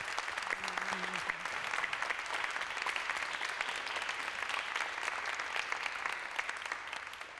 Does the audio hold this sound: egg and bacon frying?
no